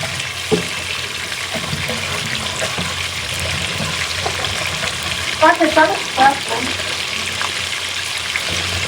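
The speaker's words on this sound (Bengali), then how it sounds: "সুন্দর করে ইলিশ মাছটা ভেজে নেই দেখেন" Oil sizzles steadily as hilsa fish fries in a pan, a constant crackling hiss with a few brief clinks of stirring.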